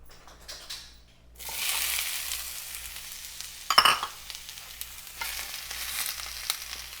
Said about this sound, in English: So now that my pan is nice and hot, I'm going to add my peppers and my onions.